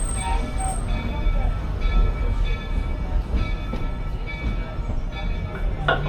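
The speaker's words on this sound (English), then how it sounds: "as we roll into the train station, please remain seated and fully inside the train so we come to a full and complete stop" Magic Kingdom railroad train rolling into its station, a loud continuous rumble of wheels on track with clanks and brief metallic squeals, close and steady.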